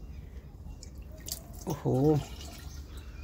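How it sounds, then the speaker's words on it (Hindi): An aloe vera mixture drips and trickles faintly as it is strained through layered cloth, with a brief exclamation from a voice partway through. "तो इस तरह से इसको हम इसमें धीरे धीरे छानेंगे।"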